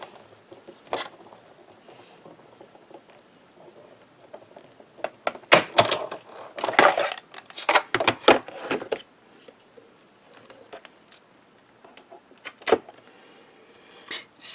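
A Platinum 6 die-cutting machine is cranked through with a foil press plate, producing clusters of rattling, clattering mechanical bursts in the middle, with softer isolated clicks before and after.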